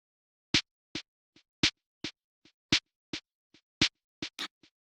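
Syncopated snare drum pattern programmed in Maschine, sharp dry hits alternating loud and soft accents with irregular spacing, a dozen or so strikes played alone with clean silence between them.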